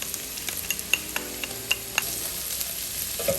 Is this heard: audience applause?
no